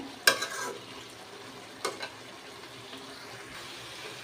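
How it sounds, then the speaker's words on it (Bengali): Sugar syrup for elephant-apple (chalta) pickle being stirred in a pan, with a soft bubbling simmer and two sharper scraping clinks of the spoon near the start, then a quieter steady cook. "এখন নেড়ে চেড়ে পানিটা ভালো মতো শুকিয়ে নিতে হবে"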